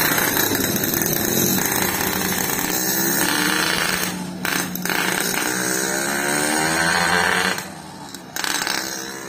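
A Yamaha RX King motorcycle with a faulty, weak-climbing two-stroke engine revs loudly and roughly nearby, with repeated throttle surges and drops and a rattle over the idle.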